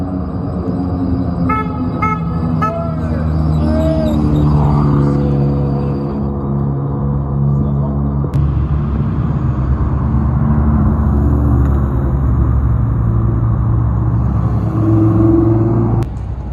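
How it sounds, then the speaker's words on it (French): Sports cars, including a Ferrari F40, Lamborghini SVJ and Porsche GT3 RS, return to the pit lane at the Le Mans circuit, with loud close engine rumble, sustained tones and toots of horns blending throughout. "Les voitures qui reviennent dans la pit lane, regardez."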